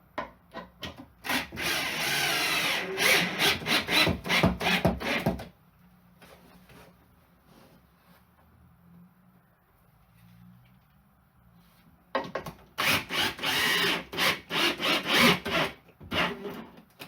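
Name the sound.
wooden door frame being squeezed into place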